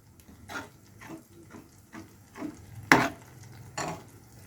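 A spoon scrapes and stirs cabbage in a pan, soft irregular swishes with a couple of sharper scraping strokes, no talking.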